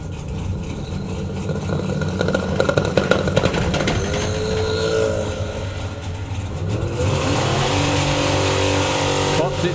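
Turbocharged LS-powered Mustang drag car launching on a drag strip, its engine revving hard and roaring at close range while a commentator talks over it.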